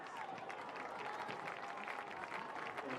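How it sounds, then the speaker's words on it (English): At a high school football game between LaSalle and Northmont in Ohio, a stadium crowd applauds new hall of fame inductees, a fairly faint, distant wash of scattered clapping and crowd murmur with a faint voice mixed in. "Let's give our new inductees one more round of applause"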